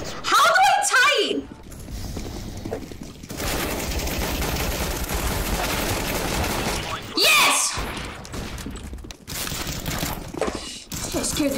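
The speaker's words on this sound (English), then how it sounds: "Thought you guys were shooting at me." Gunfire rattles through a round of CS:GO as bursts of automatic shots and clattering weapon noise sit under a player's talk, with a sharp loud spike near the start and another partway through.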